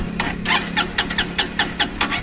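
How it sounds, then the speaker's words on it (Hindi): A Honda Unicorn motorcycle, low on petrol, cranks repeatedly without catching: a series of rhythmic, evenly spaced starter bursts over a steady low hum, close and fairly loud, with no engine firing. "तो आपने देखा ये बाइक स्टार्ट नहीं हो रहा है।"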